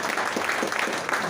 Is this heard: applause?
yes